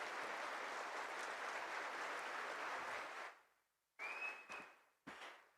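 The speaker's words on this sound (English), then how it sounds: "A huge round of applause, ladies and gentlemen." Audience applause at the Global Spirituality Mahotsav spiritual festival: a steady wash of many hands clapping for about three seconds fades out, then a few short bursts and a brief whistle-like tone follow.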